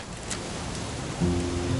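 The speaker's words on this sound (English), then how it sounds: "It's gonna rain the whole weekend, isn't it?" Steady rain patters outdoors as a soft, constant hiss. Near the end, a low humming tone rises under it.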